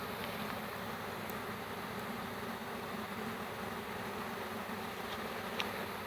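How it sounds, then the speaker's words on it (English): A swarm of bees hums in a steady, continuous drone close by, unbroken for several seconds with no talk over it. "He's caught his first swarm of bees."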